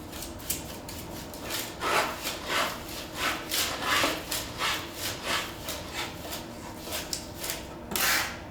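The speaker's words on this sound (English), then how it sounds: "Knife flat onto the board, just rub that blade over the garlic." A flat knife blade is rubbed back and forth over salted garlic on a wooden board, giving a steady run of close, gritty scraping strokes in an even rhythm.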